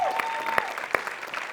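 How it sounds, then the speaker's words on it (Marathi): Audience at a Marathi comedy show clapping for a performer, a short burst of crowd applause with a few sharper individual claps standing out, mixed with faint voices. "श्याम्या, तुझ्यासाठी टाळ्या वाजल्या पाहिजे."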